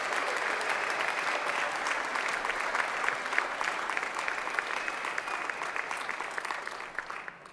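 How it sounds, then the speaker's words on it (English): Graduates and guests at a university graduation ceremony break into sustained applause, a dense, even wash of many hands clapping from start to finish, steady in loudness before easing slightly at the end. "Give yourselves a round of applause."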